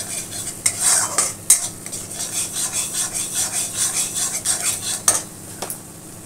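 Turmeric and chilli powder masala with tomato is stirred and fried in a pan, a continuous sizzle under rhythmic scraping strokes of a spoon, with louder knocks against the pan now and then.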